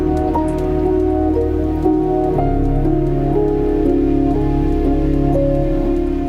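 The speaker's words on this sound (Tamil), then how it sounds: "குஜராத்தின் பல்வேறு பகுதிகளில் கனமழை வெளுத்து வாங்கியது." Heavy monsoon rain falls across Gujarat in a dense, steady hiss that stays constant and fairly loud, with a tonal hum running underneath.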